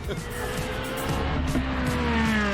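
A 20-year-old 400-horsepower Ferrari sports car related to the Modena, run without a windscreen, revs loudly and close, its engine note climbing steadily over a few seconds, with wind and road noise throughout.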